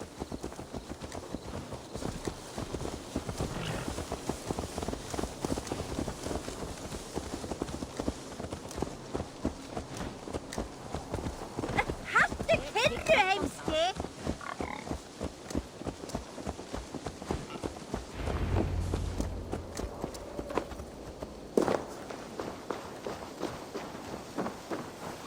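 Horse hooves clip-clop steadily through a 25-second stretch of Assassin's Creed Valhalla, a moderate, even walking rhythm over faint background ambience.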